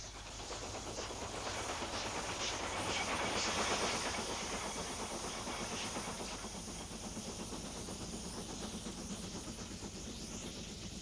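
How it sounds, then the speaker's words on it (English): A preserved LMS Black 5 steam locomotive labours past hauling a steam special out of Appleby, a steady hissing, chugging roar with rhythmic wheel clatter, fairly close and loud throughout. "a preserved Black 5 leads a steam special out of Appleby and on its way to Leeds"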